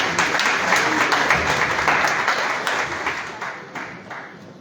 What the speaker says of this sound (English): Can we give him another big round of applause?